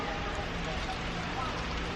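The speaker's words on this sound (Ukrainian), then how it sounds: "а на вулиці почався такий дощик." Light rain beginning to fall outdoors on a street makes a steady, even hiss that continues through the whole two seconds at a soft, constant level.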